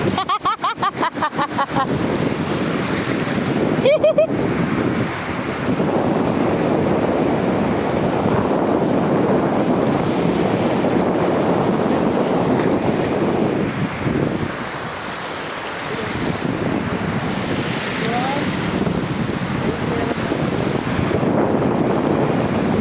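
Ocean surf rushes and rumbles steadily throughout, mixed with gusty wind buffeting the microphone, with a brief sharp knock early on.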